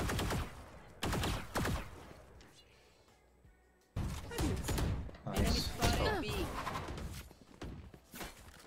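Rapid bursts of gunfire in the video game Valorant crack out loud and close, broken by a short lull and then more volleys with shattering impacts, while a voice talks over parts of it.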